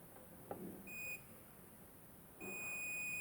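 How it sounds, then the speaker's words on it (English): Multimeter continuity buzzer beeping while probing shorted MOSFETs on a laptop board, two steady high-pitched tones, one short and one longer, over faint background hiss. "this whole section is giving short beep with respect to ground"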